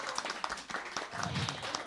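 An audience at a community gathering claps again for Mama Doris Huajibio, a short burst of close, scattered handclaps with a few sharp individual slaps amid a steady patter.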